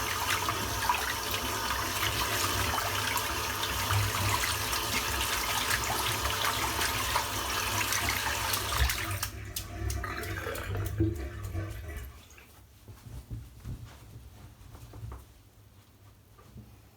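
A tap runs to rinse shaving soap out of a brush, a loud continuous rush of water that cuts off partway, leaving faint drips and handling sounds.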